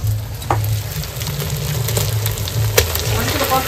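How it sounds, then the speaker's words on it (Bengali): Meat coated with turmeric and salt drops into spice paste frying in oil, giving a strong, continuous sizzle close by, with a few scraping stirs and light clinks on top. "মাংসটা দিয়ে দিচ্ছি।"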